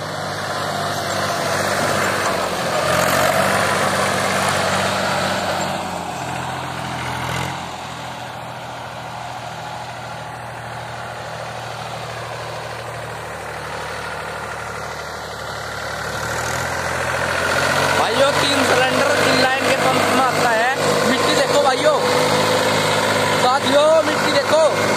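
A Mahindra 265 DI tractor engine idles for the whole stretch with a steady, loud diesel throb whose pitch shifts slightly midway, while someone talks over it at times.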